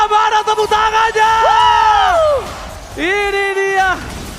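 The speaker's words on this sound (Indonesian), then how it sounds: "Playoff Arena, mana tepuk tangannya?" An esports playoff arena crowd, at a Mobile Legends match between Bigetron Alpha and Rebellion Zion, lets out loud, sustained whooping cheers in two swelling bursts with brief rhythmic shouts at the start.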